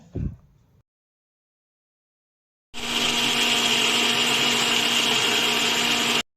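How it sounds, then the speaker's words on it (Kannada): A mixer grinder whirs loudly and steadily for about three and a half seconds as it blends garlic, cumin and coriander into a fine paste for radish sambar, after a brief clatter and a silence. "ಇದನ್ನು ನುಣ್ಣಗೆ ರುಬ್ಕೊಳ್ಳೋಣ ಬನ್ನಿ"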